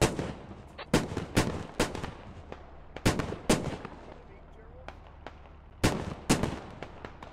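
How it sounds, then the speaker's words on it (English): Gunfire in the tactical shooter Squad sounds as sharp, loud single cracks and quick pairs of shots with echoing tails, separated by short pauses against a low ambient rumble. "Jake, he's shooting at Evan SMA"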